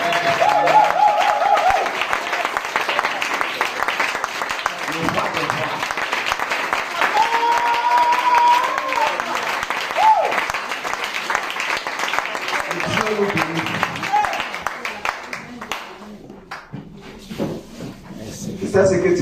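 Sustained loud applause from a church congregation at Sunday worship, many hands clapping along with cheering voices and shouts, the clapping thinning out and fading toward the end.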